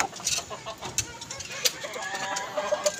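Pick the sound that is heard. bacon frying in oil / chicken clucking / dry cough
chicken clucking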